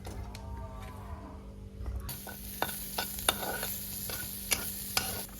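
Ginger and garlic roast in a pan, a soft low sizzle with occasional stirring clicks and scrapes, fairly faint and close, with no talk.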